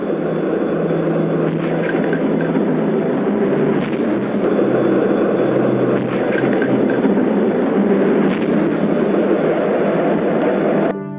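F/A-18 Super Hornet jet taking off in afterburner from a U.S. Navy aircraft carrier, a loud, deafening, steady roar that holds at full strength the whole time with no pauses.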